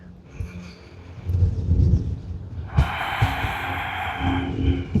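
Yoga breathing on a mat: a few audible breaths, then a loud, long rushing exhale partway through that stays breathy and close until the end, with no talk.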